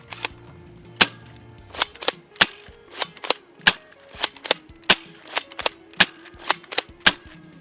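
A BuzzBee Zenith foam dart blaster fires about fifteen sharp, loud snaps in a steady, slightly uneven rhythm, each crack standing out clearly with brief quiet gaps and no talking.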